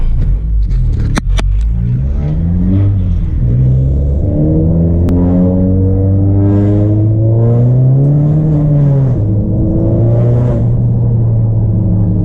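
2018 Honda Accord accelerating hard with a failing clutch, engine note climbing steadily through rising revs, dropping at a shift and climbing again; loud, close cabin sound with a couple of sharp clicks early on.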